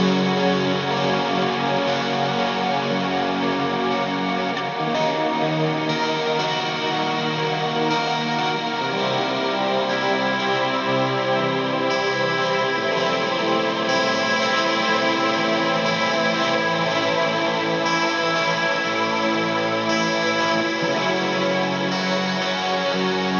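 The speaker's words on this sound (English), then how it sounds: "that pad is a mixture of the Big Sky and the SY200" A guitar pad washed through Strymon Big Sky reverb and SY200 synth effects swells as a dense, shimmering, sustained ambient drone with slowly shifting chorus-like layers, steady and loud throughout with no voices.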